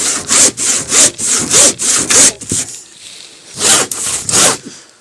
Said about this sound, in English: so that I can cut this 4 foot by 4 foot square piece of OSB